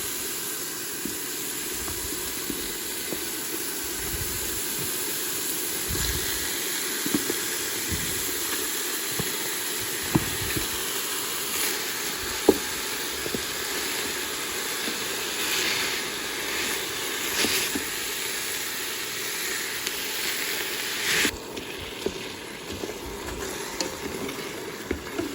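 Ground beef sizzling in a Ninja Foodi grill, a steady close frying hiss with occasional stirring clicks and scrapes running throughout.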